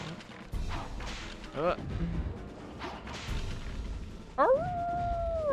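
A creature's drawn-out howl in Castlevania 64 rises and holds near the end, following scattered game impacts, whooshes and a short yelp-like cry, with some talk over the action.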